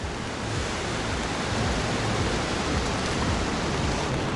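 Steady broadband hiss of monsoon rain mixed with surf on a beach in Goa, India, constant and enveloping outdoors, with no voices.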